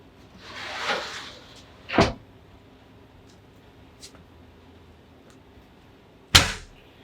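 A large Lone Star Grillz IVS insulated vertical smoker lid swings shut in a single heavy metallic thud, with a second similar clunk a few seconds later and faint handling noise in between.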